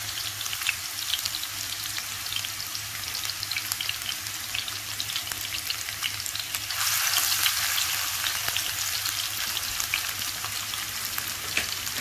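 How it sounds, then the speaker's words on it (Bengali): Chopped onion fries in hot oil in a pan, a dense steady sizzle and crackle that swells louder midway and keeps going for the whole stretch, up close and with no voices. "দিয়ে দিচ্ছি খানিকটা পেঁয়াজ কুচি"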